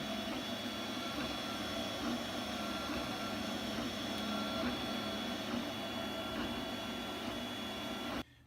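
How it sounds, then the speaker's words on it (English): A steady mechanical hum with faint whirring and clicking from a 3D printer laying down its first layers runs continuously, even and unbroken, before cutting off abruptly at the end. "Here's the 3D printer in action."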